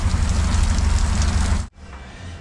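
Heavy rain from Typhoon Enteng pours down at a townhouse construction site as a dense, loud, steady hiss that cuts off abruptly near the end, leaving a quieter wash of noise.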